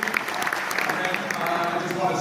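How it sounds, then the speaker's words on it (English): Audience applause, a dense patter of many hands clapping at moderate distance, steady throughout with some voices mixed in underneath. "So I think I'd like to just give a big round of applause to Dan Caesar and his team."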